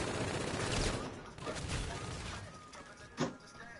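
Video-game gunfire comes in sharp bursts and scattered cracks, with a louder single shot near the end, over faint background ambience.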